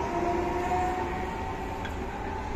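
A train passing through Firenze Rifredi station, a steady close rumble of rolling wheels with faint tonal whine, no talk.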